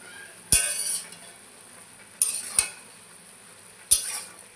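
Spoon clinking against a pot three times while taro and chickpeas are mixed with spices for a curry, sharp isolated clinks with quiet scraping between, no voices.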